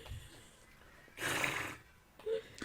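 A horse lets out one loud, breathy whinny lasting about half a second, with a short snort or breath after it over a quiet background.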